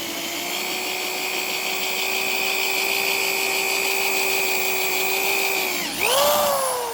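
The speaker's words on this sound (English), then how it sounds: "I think this is a letter N drill bit I'm using." A power drill with a letter N bit boring into a Saginaw steering box gives a steady high whine for about six seconds, then pitch drops and swoops back up as the bit breaks through, close and loud with no talk.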